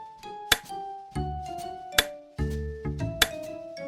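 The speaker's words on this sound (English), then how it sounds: "Every squeeze creates a satisfying click" A crocheted chicken fidget toy built on a hair clip clicker is squeezed repeatedly, giving several sharp, close clicks spaced about a second apart, each followed by a ringing, tonal rattle.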